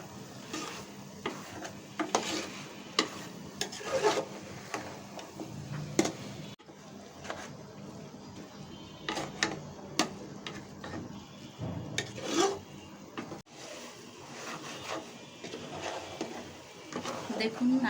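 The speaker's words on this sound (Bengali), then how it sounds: "নারকেল এবং গুড় মিশিয়ে আমি এটাকে এখন চুলায় নাড়াচাড়া করছি।" Grated coconut and jaggery are stirred in a pan on a stove for narkel naru, making steady rhythmic scraping and rubbing strokes, quiet and close, with a person speaking at times.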